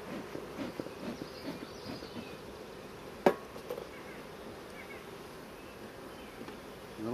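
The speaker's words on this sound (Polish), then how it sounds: "kręcą się tutaj pszczoły chyba bardziej niż" Honeybees buzz steadily around a beehive during a second inspection after installing package bees, a continuous faint hum with a brief sharp knock midway.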